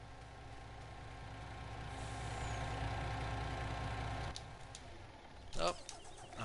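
Truck engine running in Farming Simulator 19, a steady low drone that holds throughout, swelling slightly in the middle, with a few brief sharper clicks and a hiss near the end.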